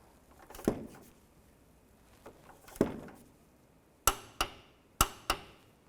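A torque wrench tightens the belt tensioner bolt to 33 foot-pounds on a 2005-2010 Chevrolet Cobalt. A few faint earlier knocks give way to two close pairs of sharp metallic clicks near the end.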